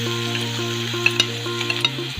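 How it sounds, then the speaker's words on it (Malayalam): Chopped onion frying in oil left over from frying chicken, a steady close sizzle with a few stirring clicks of a spatula, no voices. "ഇനി നമുക്ക് ചിക്കൻ ഫ്രൈ ചെയ്ത് വെച്ച ഇതേ ഓയിലിലേക്ക് തന്നെ അരിഞ്ഞു വെച്ച സവാള ഇട്ട്"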